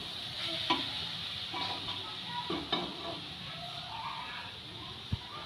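Spoon stirring a coconut naru mixture with cardamom powder in a pan, a steady soft sizzling hiss with occasional scraping strokes and a small knock near the end, faint and alone.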